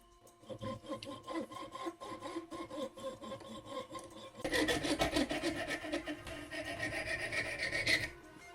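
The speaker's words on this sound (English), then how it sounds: "So I'm just going around the whole thing and doing some filing" Needle file rasping steadily around a small sand-cast metal ring, a dense scratchy stroking that grows louder and harsher midway through, close and alone with no talking.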